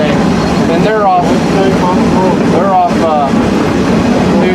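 A Cass Scenic Railroad train running on the tracks between Bald Knob and Cass, giving a loud, continuous rumble and rattle with squealing wheel tones, while someone talks over it.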